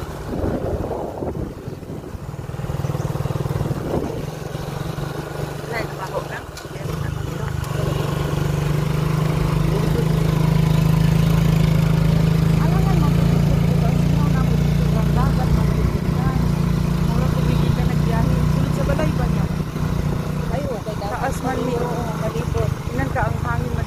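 A big motorcycle engine runs near an old house in Bohol, a steady low drone that swells louder through the middle and then eases, with wind buffeting the microphone and people talking over it.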